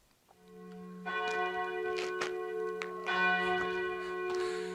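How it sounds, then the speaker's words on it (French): Church bells ringing in Vézelay, repeated resonant strikes with long ringing overtones overlapping one another, moderately loud and heard alone. "Il y a les cloches en même temps."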